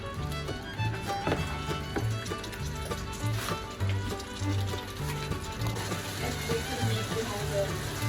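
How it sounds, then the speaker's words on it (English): Masala for dhaba-style chole frying in oil in a pan while being stirred, a steady soft sizzle with occasional scraping and clinks, fairly quiet and continuous with faint background tones. "Let's stir the masala side by side."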